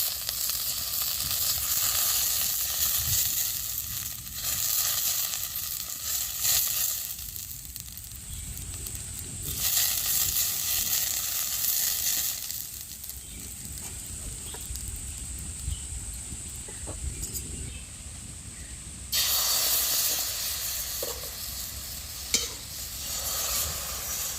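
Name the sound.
frying in an oiled kadai for mango patisapta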